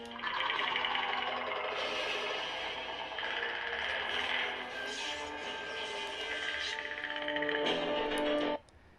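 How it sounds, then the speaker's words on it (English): Predator heat-vision sound effects playing over a lightsaber hum sound font on an Anakin Skywalker V2 saber: a dense, distorted electronic drone with shifting warbling tones, steady and loud until it cuts off abruptly near the end. "I just had the sound effects of the Predator in heat vision mode, and so you can hear it here."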